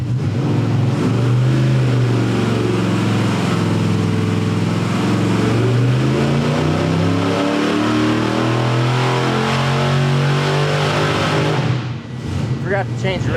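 A small block Chevy engine revving hard on a dyno, a loud, steady high-rpm roar with rising and falling harmonics that drops off sharply near the end.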